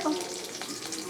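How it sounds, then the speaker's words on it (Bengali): Radhuni seeds and crushed garlic sizzle in hot oil for a Bengali shapla and fish curry, a brief, steady crackling fry heard close up with no talk. "ওই তেলের মধ্যে আমি রাঁধুনি ফোড়ন দিয়ে দিলাম আর দিলাম কটা রসুন থেতো করা"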